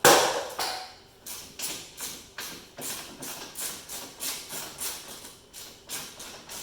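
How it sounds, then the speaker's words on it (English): A 13mm socket on a ratchet loosening back panel bolts on a Ryobi RY48ZTR100 zero turn mower, a steady run of about a dozen evenly spaced ratcheting strokes, close and crisp. "Takes a 13mm socket to get these back pieces off."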